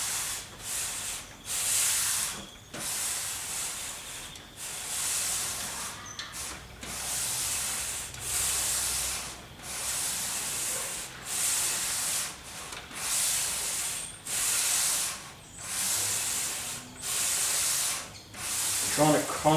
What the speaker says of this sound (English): I'm going to do the whole length now because it's the final sand.